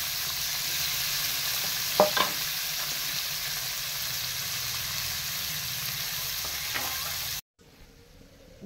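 Pomfret fish fry in oil in a wok with a steady, hissing sizzle and a couple of faint stirring knocks. The sound cuts off abruptly near the end.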